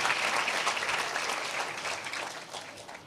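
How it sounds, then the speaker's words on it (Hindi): Audience clapping steadily at a Christian gathering, a dense, sustained round of applause lasting a few seconds and fading slightly toward the end, with no voices over it. "आई डोंट नो हम लोग ताली क्यों बजा रहे"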